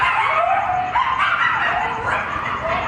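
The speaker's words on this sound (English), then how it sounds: "It's the howl of coyotes who have set up residence in this abandoned construction project in West Hollywood." Coyotes living in an abandoned construction site in a West Hollywood neighborhood howl and yip in overlapping, wavering high cries, loud and close, with a pack-like chorus that rises and falls continuously.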